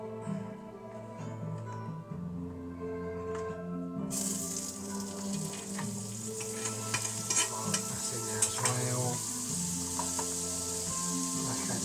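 Garlic frying in butter in a pan makes a steady sizzle that swells after a few seconds, with scrapes of stirring and scattered crackles, close and continuous, with background music and no speech.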